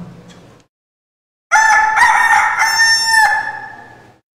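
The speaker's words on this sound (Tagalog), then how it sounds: "Siya namang pagtilaok ng manok." A single rooster gives one loud, clear cock-a-doodle-doo close by after a brief quiet gap, with the long crow trailing off at the end.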